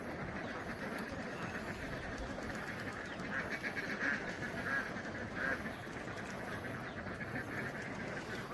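Several faint quacks from a group of ducks near water come in a short cluster midway through, set against a steady outdoor hiss.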